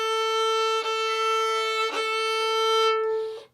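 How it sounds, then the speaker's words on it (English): A bowed violin note held steadily with a rough, scratchy edge, broken by a few harsh bow changes, played alone and close. "if you're putting too much pressure or too much weight on the bow, you're going to get a scratchy sound"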